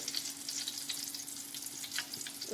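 Jackfruit chips deep-frying in oil at home produce a close, dense bubbling hiss with small crackles throughout the short stretch.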